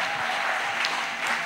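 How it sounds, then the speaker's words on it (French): A church congregation claps together in sustained, dense applause as an offering during worship, steady and fairly loud throughout with no voices standing out. "Clap offering."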